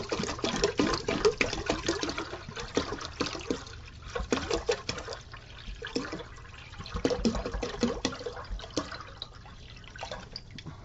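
A full gallon of liquid pours into a pot with splashing, gurgling bursts that come and go in uneven surges, heard up close and fairly loud.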